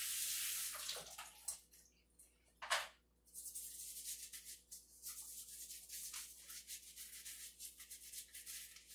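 Running water rinses wet-saw dust off a cut geode, a steady broadband splash that swells and breaks into bursts, with a louder gush near the start and another brief surge about a third of the way through.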